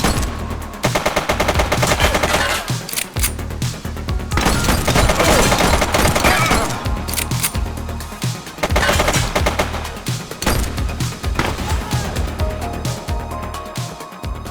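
Gunfire in the video game The Precinct: loud, dense bursts of rapid automatic shots and echoing blasts, nearly continuous with only brief gaps, close and dominating the scene.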